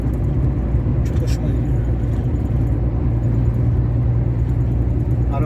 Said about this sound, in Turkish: arabamız Mercedes 1841